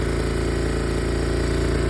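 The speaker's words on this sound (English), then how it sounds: "Might adjust the idling on it. It idles really high." A Honda FourTrax 300 ATV engine idles high and steady just after reassembly with new head gaskets, a loud continuous rapid putter with no pauses or voices.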